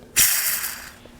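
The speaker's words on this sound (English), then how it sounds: "So this is a throwout bearing." A brief, harsh high-pitched screech or whine from a failing clutch throwout bearing on a Toyota FJ Cruiser bursts in, holds steadily for about a second, then fades, with a faint tick near the end.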